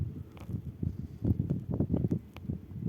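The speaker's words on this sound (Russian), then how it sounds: "Но здесь хорошо, ветер еще" Outdoor wind gusts and buffets in uneven bursts on a fishing trip near Yakutsk, a low rumbling roar that swells and fades, with faint rustling and no voices.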